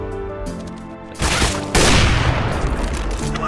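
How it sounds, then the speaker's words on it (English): A flash bang grenade in CS:GO, with a sudden loud burst followed by a sustained harsh blast of noise that slowly fades. Game tones and a voice are audible before it goes off. "Throwing flash bang."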